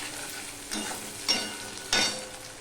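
Taro and tomato fry in hot oil for a hilsa curry, giving a steady close sizzle broken by three louder scraping bursts as the pan is stirred.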